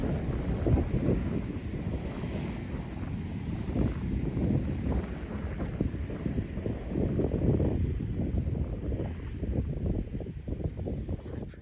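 Wind gusts buffet the microphone on a wild ocean shore, with waves washing in as a constant low rumble that holds steady and fairly loud throughout.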